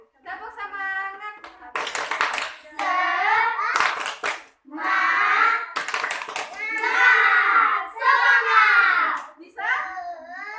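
Schoolchildren in a classroom do a rhythmic spirit clap (tepuk semangat), chanting together in bursts between sharp, loud group claps in a patterned rhythm.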